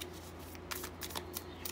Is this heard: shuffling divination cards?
yes